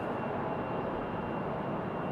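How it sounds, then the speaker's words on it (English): A United Boeing 737 MAX 8 departing Raleigh-Durham, a steady broadband jet roar holding even and fairly close for the whole stretch with no voices. "There goes that 737 at max 8 from United down the hill"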